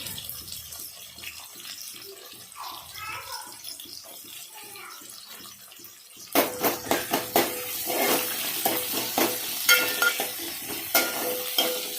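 Onions are stirred and fried in oil for an old-style tomato curry. A quieter stretch with faint voice-like sounds gives way halfway through to a loud, close sizzle with rhythmic scraping strokes.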